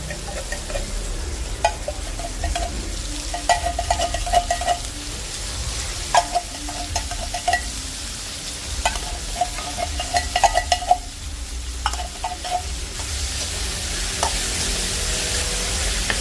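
Ground pork sizzles and fries steadily in a pan with tomatoes for pork giniling with squash, with repeated stirring and scraping clinks running through it and no talk.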